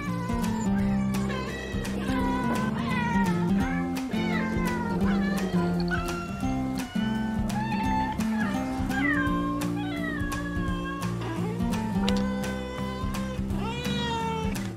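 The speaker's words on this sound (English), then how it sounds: "as well as purring a lot, he also meows a lot" Ralph, a pet cat, meows over and over in short, rising and falling calls, close and loud, with background sound running underneath.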